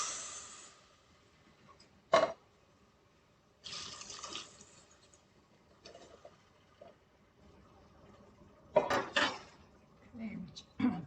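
Southern-style green beans are tipped into a cooking pot with water. The result is a loud clattering splash and metallic knocks against the pot, separated by quieter stretches of faint kitchen and water noise.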